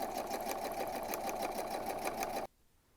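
A sewing machine stitching the seam of a zipper coin purse, running in a fast, steady, close mechanical whir with even rhythmic ticking, then stopping abruptly after about two and a half seconds.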